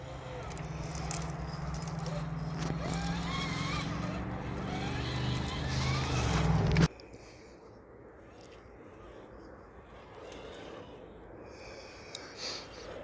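An Element Ecto RC crawler whines along a homemade backyard crawler course, a steady electric motor drone with shifting pitch that cuts off abruptly partway through, leaving faint outdoor ambience and a small bump near the end.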